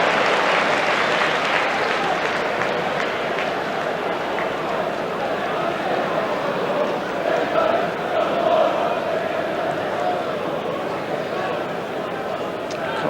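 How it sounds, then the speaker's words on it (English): Crowd roaring and cheering at Elland Road during a 1992 Leeds versus Coventry football match, a loud sustained swell of many voices filling the stadium, steady throughout with a commentator talking over it. "the cheer that went up around Ellen Roads"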